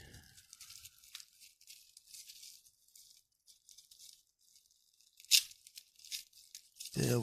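Packaging around Magic: The Gathering cards being torn open up close, with soft crinkles and rustles building to a couple of sharp tearing rips near the end.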